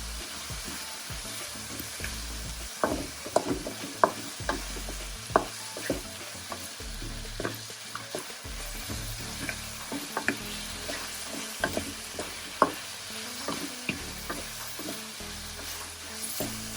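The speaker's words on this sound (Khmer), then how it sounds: "យើងលីងបន្តទៀតបងប្អូនយើងលីងឆាវានឹងឲ្យចូលជាតិគ្នា" Pork ribs stir-fry with lemongrass in a pan: a continuous sizzle broken by frequent sharp scrapes and knocks of the spatula in an irregular rhythm, close and fairly quiet, with no talk.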